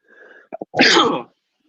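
A single sharp sneeze bursts out after a couple of short catching breaths, close and loud, followed by quiet.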